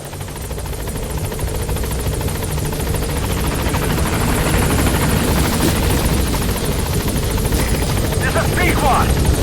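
B-Quad helicopter from Metal Gear Solid V flying overhead, a loud, steady rotor chop and turbine whine holding constant throughout, close and dominant.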